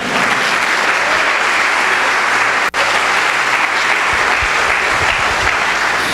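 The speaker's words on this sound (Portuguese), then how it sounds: "E as palmas para ele." A church congregation claps loudly and continuously, a dense, even wash of applause that fills the room with one brief dip.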